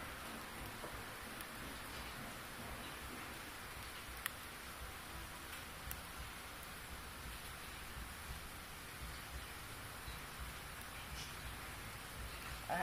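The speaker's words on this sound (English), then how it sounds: "That is freezing rain and sleet and snow." Steady hiss of freezing rain and sleet mixed with snow falling, with occasional faint ticks of pellets striking a surface; no voices.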